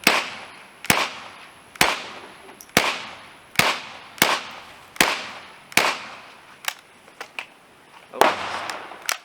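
A .22LR KRISS Vector fires Federal Champion rounds outdoors, about a dozen sharp, loud cracks spaced roughly a second apart, each with a short decaying echo, the rhythm briefly irregular near the end.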